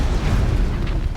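A fire tripwire from a tripcaster detonates in Horizon Zero Dawn, a deep rumbling burst of flame that roars steadily for about a second, close and loud with no talk.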